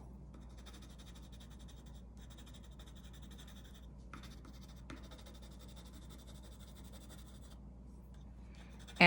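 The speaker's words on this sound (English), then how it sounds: "I'm just laying in my tones with this color pencil." A colour pencil is laid in tones on paper: a faint, steady, close scratchy shading rub that runs continuously with brief pauses, ending in a louder knock.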